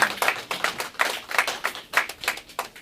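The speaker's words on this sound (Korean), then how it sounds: "여러분 박수." An audience at a commemoration ceremony for the 96th anniversary of the February 8 Independence Declaration claps for a short burst, a moderately sized group of hands patting in quick, uneven rhythm.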